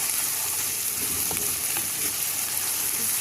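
Onion, garlic and ginger fry in hot oil, giving a loud, close, steady sizzle with a few faint stirring knocks and no talk.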